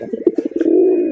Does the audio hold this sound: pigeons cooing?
yes